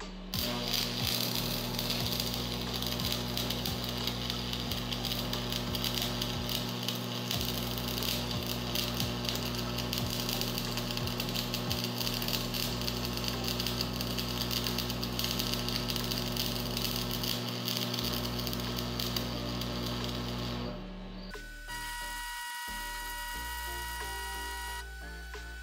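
Arc welding while running weld buttons, a steady loud crackling sizzle with a constant electrical hum that continues for over twenty seconds before shifting to a slightly different buzzing tone near the end, with no talking.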